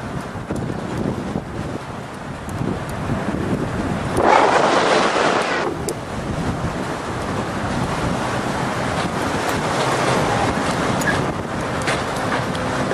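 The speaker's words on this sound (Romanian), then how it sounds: "Aici la provă bate tare de tot vântul." Strong wind roars across the bow of a car ferry crossing in Greece, a constant loud buffeting rush with a heavier gust midway, mixed with the wash of sea water below.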